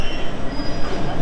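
The Delhi–Guwahati Brahmaputra Express pulling into a station, a loud, dense rumble of wheels and rail noise with a faint high squeal, continuous and close.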